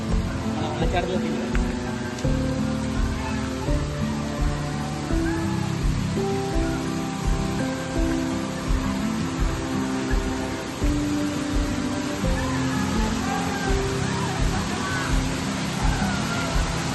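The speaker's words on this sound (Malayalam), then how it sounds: "ഇതാണ് ഞാൻ പറഞ്ഞ വാട്ടർഫോൾസ്" A monsoon-season waterfall in the hills of Malappuram roars as a dense, continuous rush of water, loud and close, with voices heard at times over it.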